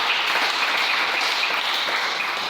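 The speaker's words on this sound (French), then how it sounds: "Est-ce qu'on peut acclamer le Seigneur?" A congregation in a church applauds in a dense, steady wash of clapping during a sermon on family, sustained and even at a fairly close distance with no voices standing out.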